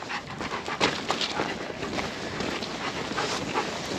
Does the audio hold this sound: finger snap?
no